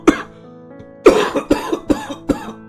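An older man in an animated cartoon gives one cough, a pause, then a rapid series of four harsh coughs, close and loud with no talking.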